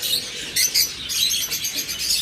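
Pet birds at a bird farm, including albino red-eye pairs, chirp in quick high bursts, several short calls overlapping close by with a faint background hum.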